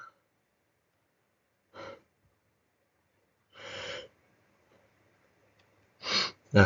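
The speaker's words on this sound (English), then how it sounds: "Sneeze gone." A few short, sharp breathy bursts separated by silence, a sneeze among them, close and quiet in an otherwise still room.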